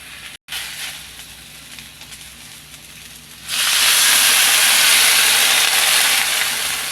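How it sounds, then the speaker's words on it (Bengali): Water hits a hot pan cooking taro leaves, and a loud broad burst of hissing steam suddenly swells after a quieter stretch and holds steady to the end. "সামান্য পরিমাণে জল দিয়ে দিব"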